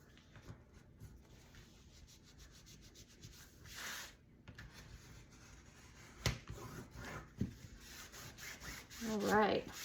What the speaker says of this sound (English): make sure you burnish the flap.